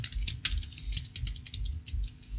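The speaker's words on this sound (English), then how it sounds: "So I'll begin typing a number of skills that I have." Fingers type quickly on a computer keyboard nearby, a close run of uneven plastic key clicks and taps with no voices.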